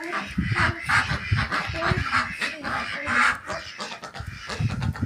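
A group of ducks quacks repeatedly in short, uneven bursts, close and fairly loud, with overlapping calls and no one speaking.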